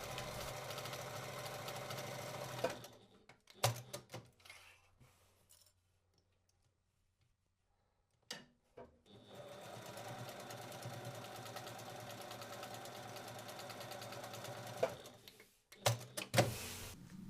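A sewing machine back stitches the seam of a bag in runs of steady mechanical whirring, first for about three seconds, then for a longer stretch of about six seconds after a quiet pause, ending in a few short bursts.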